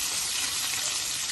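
Chopped onions hit hot oil tempered with fennel seeds in a pan, giving a steady, close, broadband sizzling hiss with no talking.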